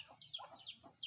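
Chickens squabble outdoors with a few short, sharp clucks and squawks in quick succession, faint and at a moderate distance.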